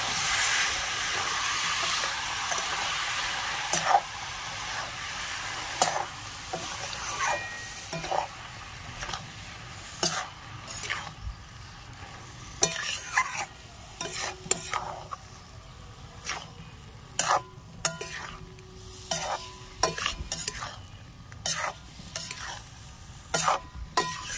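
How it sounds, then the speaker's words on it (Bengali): Mushrooms sizzle steadily in spiced oil for a mushroom masala, with frequent sharp clicks and scrapes of a spoon stirring against the pan, close and with no talk. "এবার আমি মাশরুমগুলো দিয়ে দিচ্ছি, ভালো করে কষিয়ে নেব।"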